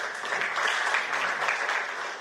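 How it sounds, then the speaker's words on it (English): Audience applause, a short burst of dense steady clapping at even loudness from start to finish with no voices. "Can we give him a round of applause?"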